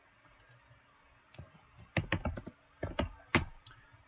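Typing on a computer keyboard during bookkeeping work, a few quiet scattered taps followed by short close bursts of rapid key clicks, with no talking.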